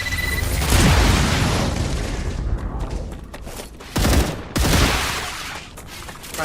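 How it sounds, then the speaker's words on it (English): Grenade blast in the video game StarRupture: loud, dense booming bursts with crackling debris, a sharp fresh detonation about four seconds in, then a long rumbling tail. "Throwing grenade."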